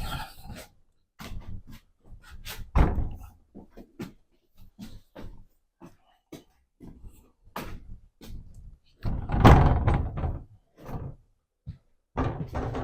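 A heavy 120-year-old door is handled and swung, with a run of knocks, clunks and scrapes of wood and hardware, some louder bumps and a longer dragging scrape near the end, close up and irregular.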